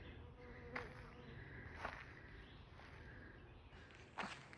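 Insects buzz close by outdoors at a low-water river bridge access in Fries, Virginia, with flies or bees droning steadily around the microphone, a few louder passes swelling and fading, and faint footsteps beneath.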